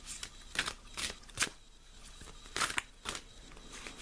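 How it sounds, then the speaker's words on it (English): Several short papery riffles of tarot cards being shuffled, in quick bursts separated by brief pauses, close and fairly quiet. "I shuffle the cards until I feel one stick out like that"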